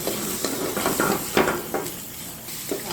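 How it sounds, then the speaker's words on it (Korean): Garlic and green onion sizzle in hot oil for a spicy seafood stew, with steady frying hiss and a few scraping stirs of a utensil in the pan. "마늘하고 파하고 먼저 볶아줍니다"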